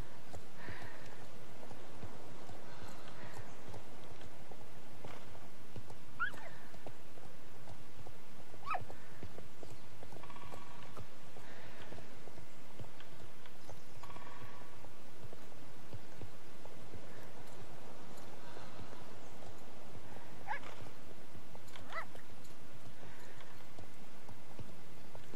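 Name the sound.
horse galloping in Star Stable video game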